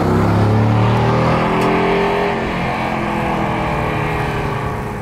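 A 2019 Mercedes-AMG GT-R with its exhaust in loud mode roars from inside the cabin, a loud sustained engine drone that settles from a rev into a steady cruise.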